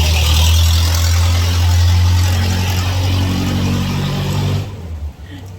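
A car engine revs loud and close amid street traffic in Matagalpa, a sustained low roar that holds steady, then drops away near the end.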